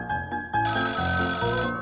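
A telephone rings with a bright, repeating electronic melody, close and clear, with no voices.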